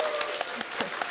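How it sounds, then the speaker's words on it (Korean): At a PyCon Korea lightning talk session, a small audience claps in a loose rhythm, with several distinct sharper claps standing out over a light, fairly quiet patter. "자, 박수."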